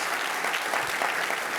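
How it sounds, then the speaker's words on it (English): Audience applause at a Space Force chief's keynote on air and space chiefs, a dense, even roar of many hands clapping together across the hall without pause. "It seems a little bit like applause"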